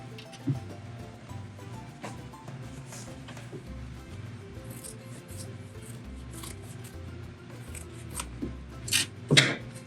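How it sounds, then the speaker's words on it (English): Scissors clip fabric half an inch from a sewn seam on a tote bag, a series of soft close snips over quiet rustling of cloth, with a sharper cluster of cuts near the end. "I'm gonna clip off 1/2 inch away from that seam"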